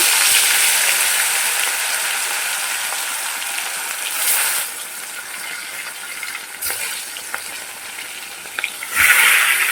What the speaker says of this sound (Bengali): সর্ষের তেল গরম হয়ে গেলে মাছগুলোকে আমি ভেজে নেবো